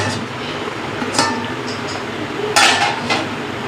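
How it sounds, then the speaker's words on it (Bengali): A metal lid is set onto a cooking pot while mango puli pitha simmers over low heat, making a couple of distinct metallic clinks and clatters against a quiet background. "এবার অল্প আঁচে আমি ঢেকে রাখবো"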